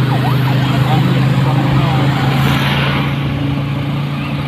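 An ambulance siren passes on a Philippine road after Typhoon Tino, likely heading to an accident, with a second ambulance following. Its rising and falling wail is clearest at the start, then fades under a loud, steady engine drone and road rumble.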